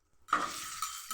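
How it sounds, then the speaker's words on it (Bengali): Popcorn packet contents with oil and spices stirred in a pot, a short soft sizzle and scrape of the spoon, fairly faint. "এটা একটু নেড়ে"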